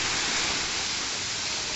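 Broadband roar of ocean waves breaking at a cold, rocky beach, steady and continuous like rushing water with no clear individual crashes.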